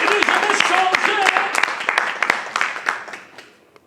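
A church congregation applauds and cheers for Jesus, a burst of clapping mixed with raised voices that gradually tapers off into a few last claps.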